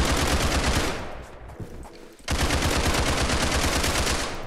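An AK rifle in the Roblox game Criminality fires in rapid automatic bursts, loud and close, with a brief pause before another long stream of shots.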